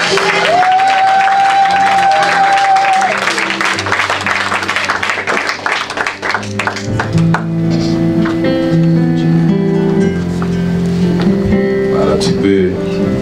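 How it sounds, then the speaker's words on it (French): Congregation at a wedding vow renewal breaks into sustained applause and cheering, a steady loud crowd roar filling the room, with a voice and music tones running underneath. "Ah, nous acclamons."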